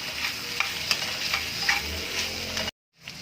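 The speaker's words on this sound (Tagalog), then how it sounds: "Haluin lang natin yan." Mixed vegetables with garlic and snow peas sizzle in a pan while being stirred, steady frying hiss with several sharp scrape ticks, close and moderately loud, cutting to near silence at the end.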